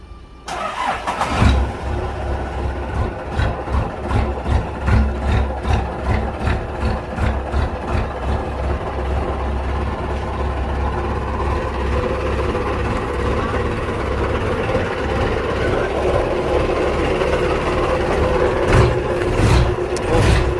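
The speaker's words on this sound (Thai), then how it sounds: "ไอสตาร์ทเครื่องได้ไหม" An Isuzu NKR110 six-wheel diesel truck engine cranks and catches, then runs with a steady, heavy low rumble and a few rev surges, close by.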